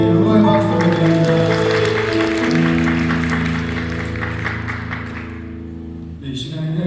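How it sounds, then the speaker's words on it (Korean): A church congregation claps together over sustained organ or piano chords during a Sunday afternoon service, the applause dense at first and gradually thinning before it stops near the end. "우리 주님께 영광의 박수 드립니다."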